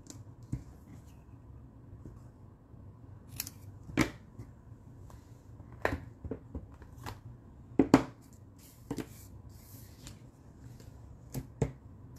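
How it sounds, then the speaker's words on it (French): Scissors snip through a paper greeting sentiment for a stamped card, giving a string of short, crisp cuts and small paper rustles at close range, irregularly spaced across the clip, with no speech. "je vais couper le vœu"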